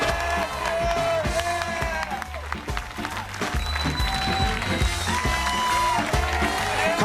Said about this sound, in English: It's based on your screaming and your applause when I introduce them.